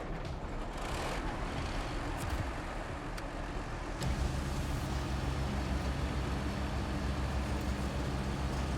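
A truck engine in the game SnowRunner turns over and settles into a steady, loud low rumble, its pitch deepening after a few seconds of churning noise.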